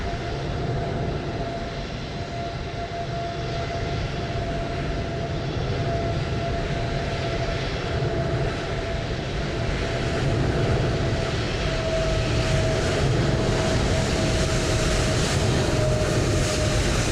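An Embraer airliner arriving at Edinburgh airport in Microsoft Flight Simulator 2020 gives a steady, loud engine roar with a sustained whine, building slightly toward the end, with no talk.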